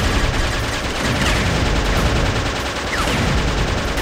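Upgraded multi-barrel gun in the shooter game Jets'n'Guns Gold firing continuously, a dense rapid stream of loud shots with no break across the whole stretch.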